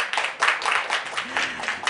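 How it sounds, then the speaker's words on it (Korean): Audience applause for four panelists at the close of a startup talk concert in Ulsan, a steady wash of clapping in uneven swells that fills the whole stretch. "오늘 함께 해주신 네 분의 패널 여러분께 다시 한 번 더 여러분 박수 부탁드립니다"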